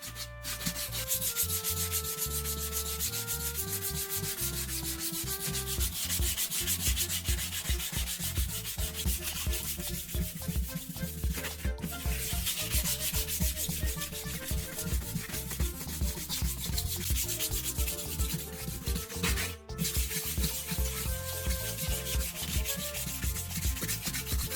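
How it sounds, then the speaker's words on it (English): Plastic headlight lens being wet-sanded with 1500 grit sandpaper, a continuous close rasping rub with steady back-and-forth strokes and no talk. "Switch to 1500 grit sandpaper and spray water again."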